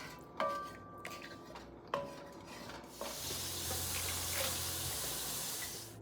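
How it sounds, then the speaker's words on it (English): Water from a glass poured into a cooking pot of carrots, turnips and meat juices, arriving as a steady, moderately loud splashing rush after a few clinks and scrapes of utensils against the pot. "Now I'm going to come in with a glass of water."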